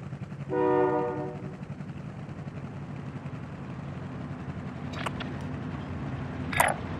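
Train in the video game Call of Duty: Modern Warfare, a steady low rumble of rolling rail cars with a short horn blast near the start and a few sharp clanks later, no talking.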